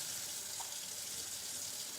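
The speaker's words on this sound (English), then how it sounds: "I'm going to go ahead and fill it with some water" Tap water runs steadily into a small cup, a soft continuous hiss of flowing water heard quietly and alone with no speech.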